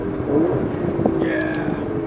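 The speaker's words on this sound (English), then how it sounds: "I got paddle shift down. Yeah, that's fine. Yeah, that nice downshifting. Yeah, the nice burble." Aston Martin engine burbling through its exhaust as the paddle-shift gearbox downshifts, a low steady rumble with a brief blip midway, heard from inside the car with a voice speaking faintly over it.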